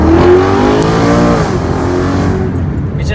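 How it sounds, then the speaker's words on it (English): A BMW E92 M3 with a custom titanium double X-pipe exhaust, valves closed, revs up then eases off, a loud close-up engine note that rises and falls away without speech. "With the valves closed, it's really quiet and very daily drivable."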